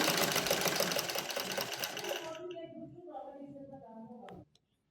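Sewing machine stitching at a slower speed setting, a dense mechanical whir that winds down and fades, with someone talking over the slowing motor before it stops.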